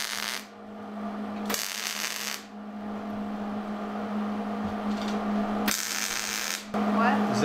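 Quick tack welds on steel side rails for a skoolie roof deck come as bursts of bright, crackling arc hiss, two short ones early and another later. A steady electrical hum runs underneath throughout.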